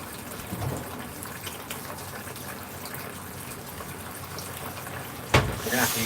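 A kitchen tap runs water into a sink with a steady soft splashing, faint and continuous, ending in a louder gushing burst near the finish.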